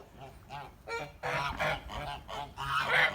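A young goose on a Kholmogory-breed farm honks repeatedly in a run of loud, close calls, bursts arriving every half second or so and growing louder toward the end, with no talk over them.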